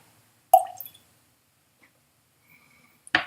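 A single small liquid plop near the start as water is dripped into a glass of Lagavulin 8 whisky, then quiet, with a brief splashy clink at the end.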